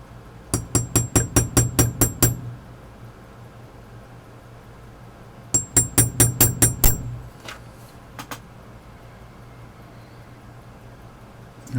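Metal pocket watch part, from an Argentan Goliath pocket watch, struck with a hammer on a stake, close and sharp: a rapid run of about nine ringing taps, a pause, another burst of about eight, then a few scattered knocks.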